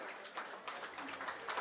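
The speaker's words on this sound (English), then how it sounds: "give them all a big round of applause" An audience at a boxing night in a hotel function room claps in faint, scattered applause that swells in short bursts for under two seconds.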